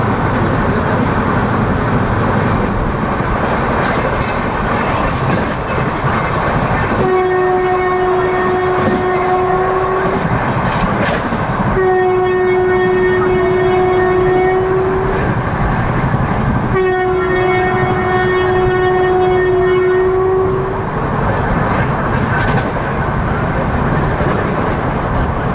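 The 17221 Kakinada–Mumbai LTT Express runs through Dwarapudi railway station without stopping, giving three long, loud horn blasts over a constant roar of wheels and rumbling carriages.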